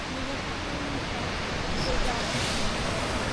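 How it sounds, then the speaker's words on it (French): Small waves at a surf beach in El Nido, Palawan, a steady broadband wash of surf mixed with wind across the microphone, fairly constant throughout. "Donc pas mal de petites vagues,"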